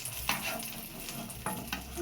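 Brinjal slices fry in hot oil for crispy begun bhaja, a continuous close sizzle with a few brief louder bursts as pieces are moved.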